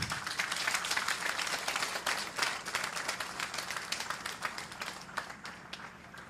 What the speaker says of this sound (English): Shall we please give them a round of applause once again?